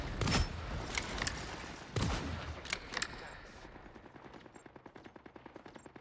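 Black Widow's rifle fires in the video game Overwatch: a few heavy, sharp shots, then a long, rapid, evenly spaced automatic burst that gradually fades, with no speech.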